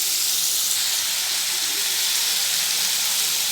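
Spices and prawns sizzle in a pan for a Bengali curry, a steady close hiss with no break that runs the whole time and stands alone with no talk.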